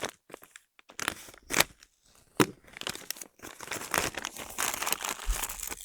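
Crinkling and rustling of a plastic field ration packet being handled, irregular crackly bursts close up, with quiet gaps between handlings.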